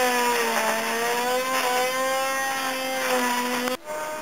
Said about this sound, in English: Neighbour started to grind.